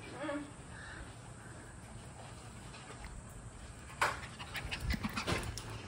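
A dog pants quickly and rhythmically close by, with a few sharper bumps and rustles breaking in toward the end.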